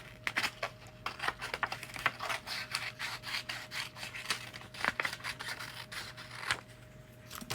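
Scissors snip and rub through sheet material, cutting it to size with repeated close, crisp crunching strokes at an uneven pace over a faint steady hum; no talking.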